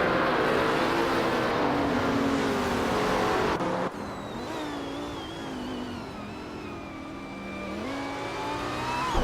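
A 2014 Lamborghini Huracan racing car engine drones and whines at high revs, holding a steady roar with rising and falling pitch sweeps as it shifts, loud and close throughout.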